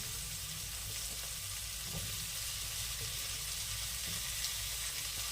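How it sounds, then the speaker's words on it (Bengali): Chopped onion, capsicum and tomato frying in hot oil with cumin and bay leaves in a pan, a steady, fairly loud hiss of sizzling that carries evenly throughout with no talk. "এবার এর মধ্যে দিয়ে দেবো ক্যাপসিকাম আর টমেটো।"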